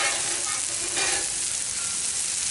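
Mongolian grill food sizzles on a hot Blackstone griddle, a loud, steady frying hiss close by with no talking.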